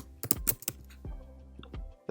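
Fingers tapping out an angler's name on a computer keyboard, a quick burst of sharp clicks followed by a few slower, isolated keystrokes, close and alone.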